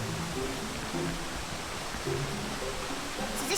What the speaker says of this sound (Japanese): 滝の水量はなかなか。